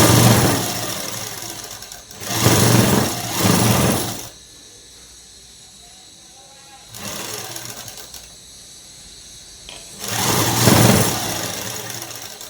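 A domestic sewing machine stitching a night dress runs in three loud bursts of steady whirring, separated by quieter pauses with faint background hum.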